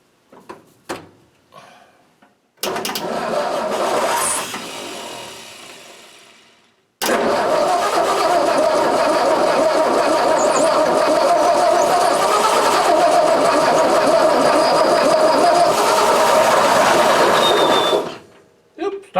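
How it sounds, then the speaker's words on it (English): A 1959 Ford F250 engine cranks on its starter with the choke pulled, a loud, steady mechanical churn running for about eleven seconds without catching, after a shorter cranking burst that cuts off earlier. "Starter stayed on that time."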